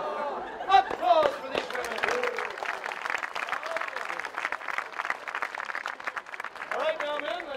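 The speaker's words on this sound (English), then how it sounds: "Applause for these women." Audience applause fills a stage show of costumed men in tights, steady and loud clapping with crowd cheers throughout, rising again near the end.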